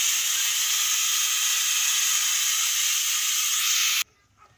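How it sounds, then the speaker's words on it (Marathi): A pressure cooker whistle on a stove during a rainy day at home, a loud steady hiss for about four seconds before stopping abruptly. "तर कुकरची शिट्टी वाजली खरं आहे।"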